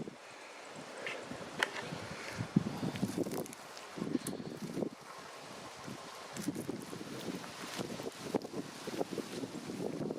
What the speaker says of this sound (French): Il y a un peu de vent, je sais pas si tu entendras.